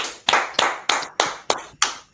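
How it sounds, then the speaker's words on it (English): An audience claps in short bursts: six sharp, loud, evenly spaced rounds of applause, each fading quickly before the next, with no voices over it. "Clap it up."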